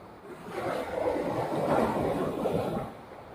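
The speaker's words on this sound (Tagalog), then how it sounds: "lalaki ng mga alon. Sobrang sama talaga ng dagat." Large waves roll on a rough sea during a strong northeast monsoon, a broad rushing surge that swells and fades over a few seconds, heard alone without talk.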